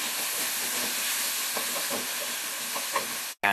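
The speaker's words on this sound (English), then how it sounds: "and then fry the potatoes for 2 minutes" Potatoes frying in cooking oil with ginger, garlic and turmeric, a steady close hiss of sizzling oil with a few small pops, cut off abruptly near the end.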